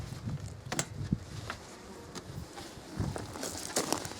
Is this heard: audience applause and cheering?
no